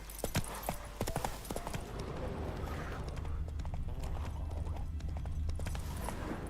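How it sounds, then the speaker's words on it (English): Roach, a horse in the video game The Witcher 3, gallops with loud, steady clip-clop hoofbeats and a brief whinny, carried over a continuous low rumble with no talk. "Run, Roach."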